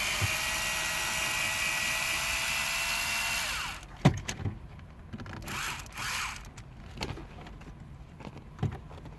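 Screws being removed from the radio on a 2003–2008 Jaguar S-Type dashboard: a continuous whirring power-tool drone stops abruptly, followed by sparse close clicks and taps as the screw comes free.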